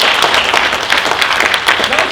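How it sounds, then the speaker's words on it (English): Audience applause at a training seminar, a short loud burst of many hands clapping close by throughout. "Let's give Anthony a round of applause."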